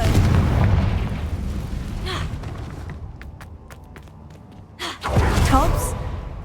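A Confringo spell blast in the video game Hogwarts Legacy makes a rumbling burst that fades over a few seconds, then a second sharp boom near the end, with a short vocal gasp mixed in.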